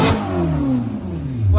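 A Ferrari engine revving just after being started with the red start button, a loud close rev whose pitch sweeps down and then climbs again in a brief burst.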